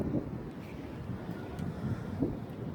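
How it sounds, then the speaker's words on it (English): Wind gusting outdoors in Ohio in February, buffeting the microphone as a low, uneven rumble with a few soft swells, steady and unaccompanied by talk. "It's windy here in Ohio for February, as you can tell"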